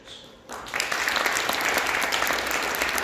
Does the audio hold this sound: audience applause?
yes